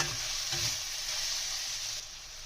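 Vegetables for street-style veg chowmein fry on a low flame in a steady, close sizzle that eases slightly near the end, with no one talking.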